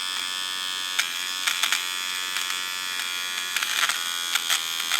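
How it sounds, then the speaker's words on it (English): A cheap battery nose hair trimmer buzzes steadily and close up as it shaves carpet lint, its high whine wavering with brief rougher bursts where the blades catch the fluff. "here I have some lint I took off of the carpet here, and what we'll do is we'll try to shave that"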